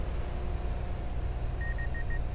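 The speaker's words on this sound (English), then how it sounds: "When the auger turns on, it beep beeps." Farming Simulator 25 grain auger beeping as it switches on: four short, evenly spaced electronic beeps, fairly faint, over a steady low engine rumble.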